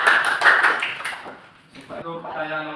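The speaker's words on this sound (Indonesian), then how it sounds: "Tepuk tangan, cepat." Students in a classroom clap their hands in a quick burst of rapid, fairly close claps that fade out after about a second and a half, followed by a teacher's voice speaking.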